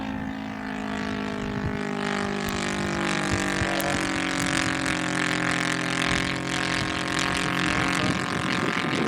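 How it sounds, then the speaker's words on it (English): A 1/4 scale Hawker Hurricane radio-controlled model airplane's engine drones loudly and steadily throughout, with a rich harmonic buzz and slight variations in pitch, accompanied by wind noise. "Boy, that engine sounds good."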